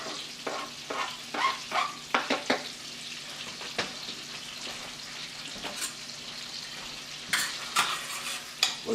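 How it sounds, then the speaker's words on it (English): Butter sizzles in a pan with minced shallots while the mix is stirred for lobster bisque. A steady frying hiss runs throughout, broken by repeated scraping and clinking utensil strokes close up. "once it starts sizzling, we'll add 2 tablespoons of minced shallots"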